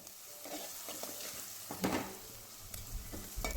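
Crab pieces fry in a pan over a medium flame, a soft steady sizzle with scattered stirring scrapes and a couple of brief louder bursts.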